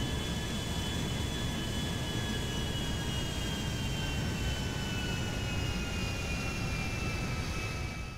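Airplane engines in a flight simulator game, a large Air France airliner, roaring as a loud continuous jet drone with a thin whine slowly falling in pitch as they shut down.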